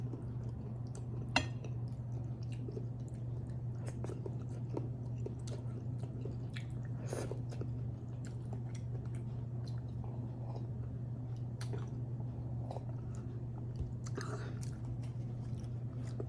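Close, steady chewing and biting on crunchy chicharon bulaklak, Filipino deep-fried pork, with soft crunches and wet mouth sounds over a low background hum, no talking.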